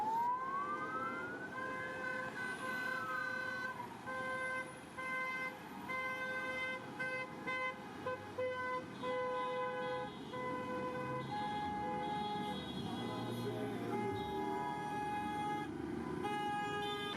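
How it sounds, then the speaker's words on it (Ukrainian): Vehicles in a commemorative motorcade roll through the streets of Shostka, Ukraine, with a wailing emergency siren sweeping up and down and horn toots over steady traffic noise throughout. "Учасники акції проїхали автомобільною колоною вулицями Шостки."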